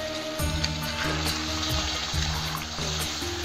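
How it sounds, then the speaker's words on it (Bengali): Hot water poured into a bowl of marinated chicken for Bengali chicken kosha, a steady close trickle and splash running through the whole stretch with soft kitchen bumps. "মাংসটা মাখাইছিলাম সেই বাটিতে আমি গরম জল নিচ্ছি"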